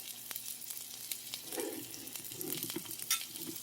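Shrimp burgers frying in a pan, a soft steady sizzle with occasional crackles and a few light scraping stirs, close but fairly quiet, with no talking.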